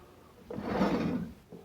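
A door in a roach-infested fixer-upper house swings open or shut with a single woody scraping rub lasting under a second, close and fairly quiet, no talk.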